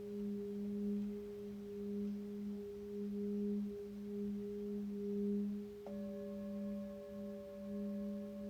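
Singing bowls ring softly with steady, sustained pure tones that hang in the air, and a second bowl joins partway through, layering a fresh shimmering tone over the first.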